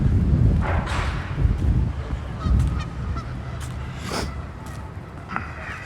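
Geese perched on a downtown building corner honk in scattered bursts above a steady city background with traffic rumble and footsteps, moderately distant.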